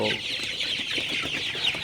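Sonali super hybrid chickens in a farm shed, a dense steady chorus of clucking and chirping filling the space, close and continuous without any talk.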